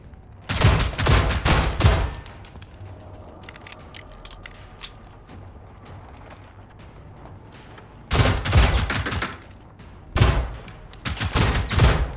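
Gunfire in Generation Zero hits robots during combat gameplay. Two loud bursts of rapid shots with impact crackle bracket a quieter stretch of faint ambient game sound, and a shorter volley comes near the end.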